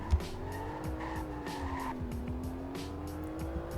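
An Aston Martin DB11 cornering with its tires sliding, a sustained engine drone rising and falling through the turn with a faint tire squeal over steady road and cabin noise.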